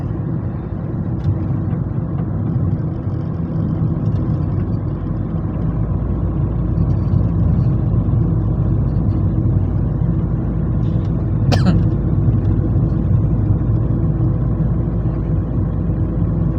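Car with an automatic gearbox driving along at low revs, a steady, loud engine drone heard from inside the cabin, with one brief high click partway through and no speech.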